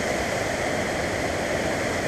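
River water rushing steadily, a dense continuous broadband roar like fast current over rocks, loud and unbroken with no voices.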